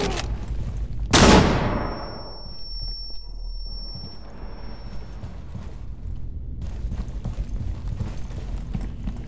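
A single loud, close shotgun blast in Rainbow Six Siege, a sharp crack that rings out and decays, followed by a lingering tone and then scuffling, clattering movement noises.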